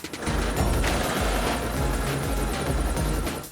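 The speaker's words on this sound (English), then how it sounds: "Sorry, Tom, but Super Helicopter needs a wash." A cartoon helicopter sound effect, a steady loud rotor chop with a pulsing low thump running continuously without voices.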